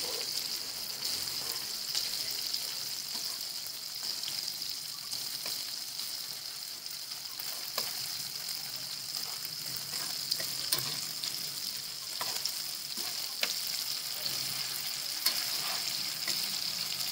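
Prawns fry steadily in a covered pan on low heat, giving a continuous close bright sizzle with small crackles and pops throughout, no voices.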